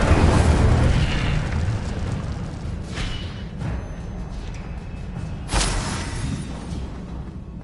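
Incendio fire spell cast in Hogwarts Legacy, a burst of whooshing flame that swells at the start, with a couple of sharper flaring bursts later on, alone over a steady roaring game background.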